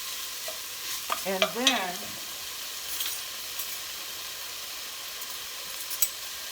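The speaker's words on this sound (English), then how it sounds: "half a pound of ground turkey that I have. I'm going to break that down." Half a pound of ground turkey being broken up and stirred in a hot pan for a simple Italian-style soup: a soft continuous sizzle and hiss with scraping stirs, quiet and close, and a few spoken words partway through.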